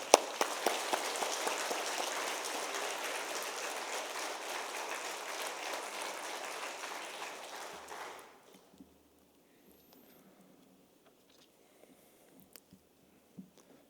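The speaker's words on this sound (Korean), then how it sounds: "나오실 때 우리 뜨거운 박수로 맞이합니다." A church congregation claps steadily for about eight seconds to welcome a speaker, a dense wash of applause that stops abruptly, followed by near silence with a few faint knocks.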